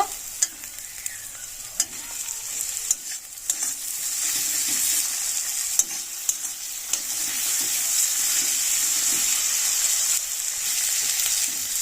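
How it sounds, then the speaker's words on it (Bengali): Tomatoes sautéing in a hot pan, a rising bright sizzle broken by repeated scraping and clinking stirs of a spoon against the pan, up close with no voices. "ভালোভাবে কষিয়ে নেব।"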